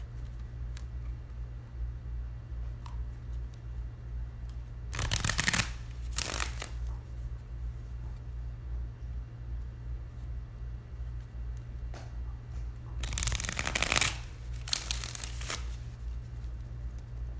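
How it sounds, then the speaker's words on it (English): Two bursts of tarot card shuffling, each a quick riffle of crisp rapid flutters, separated by a steady low hum with no talking. "One more shuffle."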